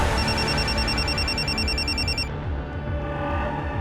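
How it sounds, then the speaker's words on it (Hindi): A telephone rings with a bright, repeating electronic trill that cuts off partway through, and a loud, steady background music bed continues underneath. "सर, वो रूपाली जी के असिस्टेंट तुषार का फ़ोन था।"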